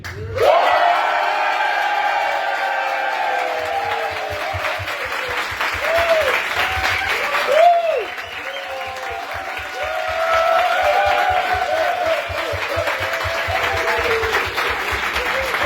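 Audience applause at a stand-up comedy show in Kumanovo: dense, sustained clapping from a lively crowd for the whole stretch, mixed with whoops, cheers and shouting voices, swelling near the start and again midway.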